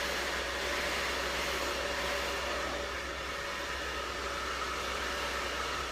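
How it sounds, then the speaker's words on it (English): A hair dryer blows steadily up close while hair is styled with a paddle brush, an unbroken loud airy roar with a constant motor hum and no pauses. "I'll try and show you a little bit of the difference with another blow dry on the other side with a paddle brush"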